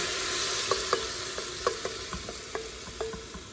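Marinated meat sizzling in a little olive oil at the bottom of an Instant Pot, a steady hiss with scattered crackling pops and stirring clicks, close and alone.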